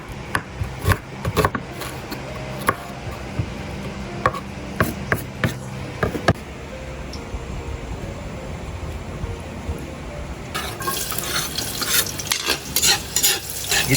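Ginger and onion sauté in a pan for fish sinigang, with a steady close sizzle under repeated scraping stirs of a utensil, and a stronger frying hiss swelling near the end.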